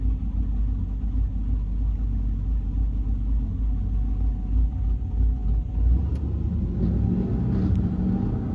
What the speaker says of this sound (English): Dang, the thing has a big cam. The whole car's shaking.